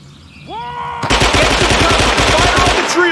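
Sustained automatic machine gun fire in the Vietnam War video game Men of Valor, loud rapid bursts filling the clip after a brief lead-in, with shouted voices mixed in.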